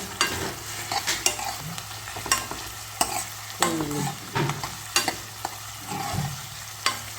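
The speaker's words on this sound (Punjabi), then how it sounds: "ਇਹ ਹੋ ਗਿਆ ਪਿਆਜ਼ ਅਦਰਕ ਲਸਣ ਲੋ ਜੀ ਇਹਨੂੰ ਹੁਣ ਆਪਾਂ ਚੰਗੀ ਤਰ੍ਹਾਂ ਭੁੰਨ ਲਾਂਗੇ" Onion, ginger and garlic are stir-fried in oil, with a soft sizzle under repeated sharp scrapes and clacks of a spatula against the pan in an uneven, steady rhythm.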